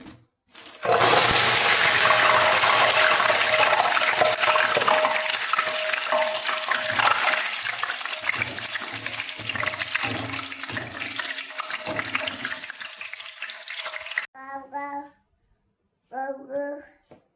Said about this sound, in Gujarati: અને હવે તાજી તાજી લીમડી છે લીલી, તે હવે તળી લઈશું.